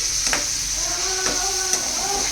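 Millet ponganalu batter tempering sizzles and crackles steadily in hot oil as it fries, with a few brief stirring scrapes standing out over the continuous hiss.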